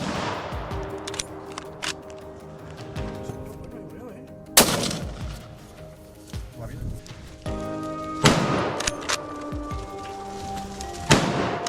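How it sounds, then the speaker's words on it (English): Several sharp gunshots ring out in woodland during a wild boar hunt on Texas farmland, spaced irregularly over a steady rustling background, with voices talking faintly beneath. "Only when the shots rang out did the herd begin to scatter."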